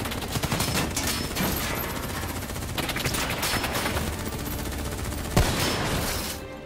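Dense, sustained automatic gunfire from Call of Duty Black Ops 3 fills the whole stretch, with overlapping bursts and a sharper loud shot near the end, and no talking.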